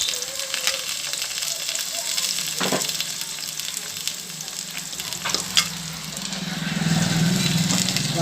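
Green chilli and tomato pieces frying in a pan for a village-style mutton curry, a steady sizzle with scraping stir strokes and a swelling, louder hiss toward the end.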